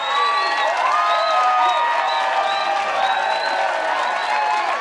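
At a mixed gold-medal pickleball match at the 2021 PPA Newport Shootout, a crowd cheers and applauds loudly and steadily, with whoops and shouts rising above the clapping for the whole stretch.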